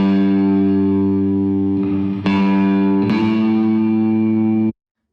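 Bass guitar in a song mix with a low-end enhancement effect: one sustained, heavily boosted bass note ringing with distorted harmonics, two fresh plucks re-striking it, then an abrupt cut to silence.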